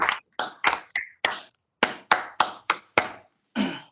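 A church congregation claps for the Lord in roughly ten sharp, close, separate claps with short gaps between them. No voices.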